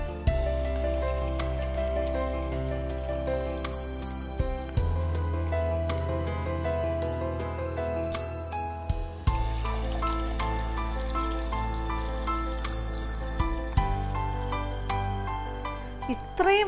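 Chilled mango masala soda, made with raw green mango, is poured into a glass, giving close, steady liquid pouring and splashing with a few clinks and knocks, under a quiet bed of kitchen sound.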